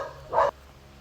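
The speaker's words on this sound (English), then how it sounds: "Sorry, dogs again." A dog gives a single short, sharp bark at a distance, faint over a low background hum, at a home in the Philippines.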